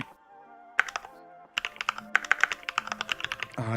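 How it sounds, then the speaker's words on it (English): A title being typed on a computer keyboard, with a brief pause and then a steady run of close, crisp key clicks and taps, heard alone with no talking. "let's go ahead and get started the same way we always do, by typing out the title here"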